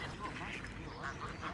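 Ducks at Ferrymoor Flash quack while being fed breakfast, with a few nasal calls standing out over a rough, windy outdoor background.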